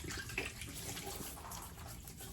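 Water runs steadily from a tap while the face is wetted before a wet shave, a continuous close splashing rush with no talking.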